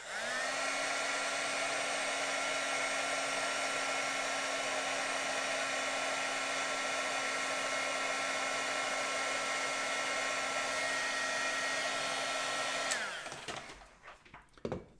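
A heat tool runs steadily on high for about thirteen seconds, heat-setting embossing powder on stamped foam for a Christmas craft, a loud continuous blowing whir with a faint tone, then it switches off and handling noises follow.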